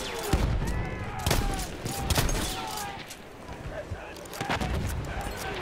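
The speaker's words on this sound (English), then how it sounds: "There are grenades everywhere." Battlefield 1 multiplayer battle on Xbox One, with repeated gunfire bursts and heavy booms that fit grenade explosions, sounding dense and close over a steady din of combat, while people talk over it.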